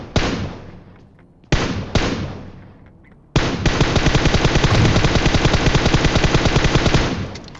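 M416 rifle fire in a battle royale shooter game: two single loud shots with echoing tails, then a long sustained rapid automatic burst, close and loud, without speech.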